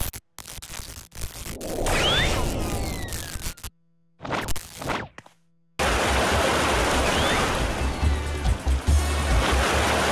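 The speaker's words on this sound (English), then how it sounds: "Well, the water became a lot louder." Rushing water in the Wii Party video game, a loud continuous surf-like roar that cuts out briefly in the middle, then returns steadier and louder.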